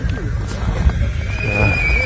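Horses at a livestock market in Pokrovka, Talas, neigh and whinny amid a busy crowd, with voices murmuring and a steady outdoor din around them.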